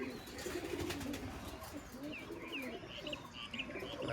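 Old Giribaz flying pigeons coo softly in low repeated rolls, joined by faint short chirps toward the end, heard at a distance and fairly quiet.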